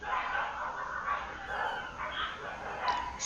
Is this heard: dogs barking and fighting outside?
yes